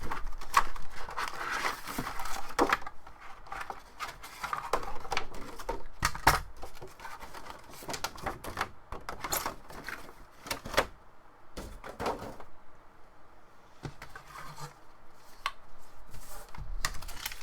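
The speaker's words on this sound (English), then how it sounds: "inside it comes in this plastic kind of clamshell. You just kind of pull it open." Plastic clamshell packaging for a PC game controller is pulled open, giving a run of crinkly clicks, snaps and crackles in irregular bursts, close up and fairly quiet, with no talking.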